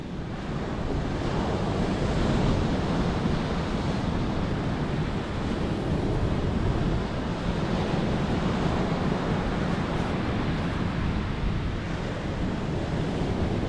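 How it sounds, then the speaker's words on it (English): Wind buffeting on the Lincolnshire coast, a loud, steady broadband roar with surf churning underneath, continuous and rough with no talk. "Wind is blowing"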